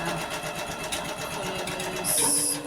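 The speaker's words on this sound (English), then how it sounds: "You click start and then the machine resumes the sewing for the next part of the pattern" An embroidery machine stitching a pattern hums with a steady rapid needle rhythm, close and moderately quiet, with a brief shift in tone near the end.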